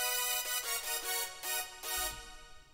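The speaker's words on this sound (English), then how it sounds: "the first chord layer sounds like this." A first chord-layer synth from a hardstyle track, played in FL Studio 20, plays a series of bright, buzzy sustained chords in a rhythmic pattern of short stabs and longer holds, dry and up close.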